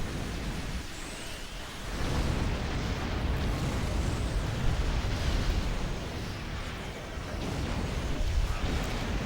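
Rumbling explosions in a sci-fi video game with alien ships flying around, a continuous roaring wash of blasts at moderate level with no talking.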